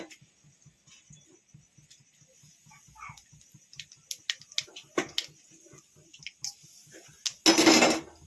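Nigella seeds dropped into hot oil in a wok for a Bengali puti fish curry with potato and bori: soft regular ticking at first, then scattered sharp crackles and a loud sizzling burst near the end.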